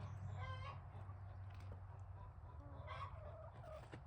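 A rooster and chickens cluck softly and intermittently over a low, steady background hum, with no talking.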